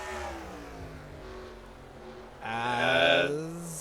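Race cars in an NRSL sim racing event at Cleveland drone with rising engine pitch, then several cars rev hard together near the end, loud and close, with no talking.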